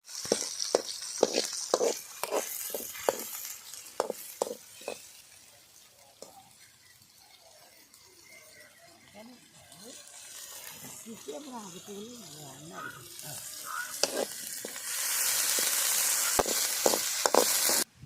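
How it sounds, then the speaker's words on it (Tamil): Ginger-garlic paste and curry leaves fry in hot oil in a home kitchen pan, with rhythmic spoon-stirring scrapes and sizzling that comes and goes, then a louder steady sizzle near the end; someone talks over it. "அடுத்தது இஞ்சி பூண்டு ஊற்றுறேன்"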